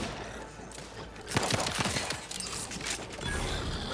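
Rifle gunfire from The Outer Worlds 2 in a quick run of sharp, close shots over a noisy game soundscape, partly masked by the surrounding din.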